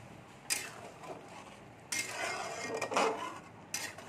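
A ladle scrapes and clinks against a pot as rohu fish curry with garam masala is stirred, giving several separate metallic knocks and scrapes at moderate loudness with no talking.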